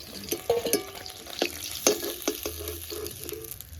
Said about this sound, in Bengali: বাকি মাছের পিসগুলোও ভেজে নিচ্ছি।